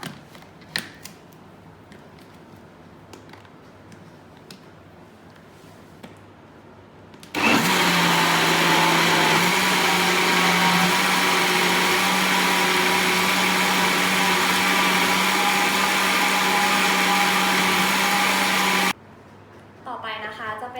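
An N-JOY ICE ice cream machine's blender whirs at a loud, steady pitch for about eleven seconds as it mixes the ice cream base, then stops abruptly. Quieter sounds and a voice come before and after it.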